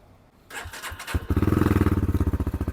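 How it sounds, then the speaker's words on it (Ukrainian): A Lifan KPR 250 motorcycle engine cranks with a starter whir, catches, and settles into a steady, loud, throbbing idle nearby. "Це ж серйозний мотоцикл, Ліфан КПР 250. Ну давайте запущу"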